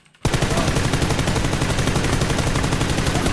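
Sustained rapid machine gun fire in the battle royale game PUBG, a dense, loud, continuous automatic burst that kicks in abruptly after a brief silence and hammers on without pause.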